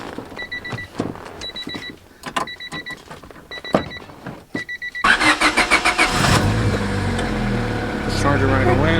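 A Honda Civic EG with a freshly replaced battery chimes several times, then its engine cranks in quick pulses and fires, settling into a steady idle; voices talk through the first half.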